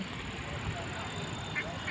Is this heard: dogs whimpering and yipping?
no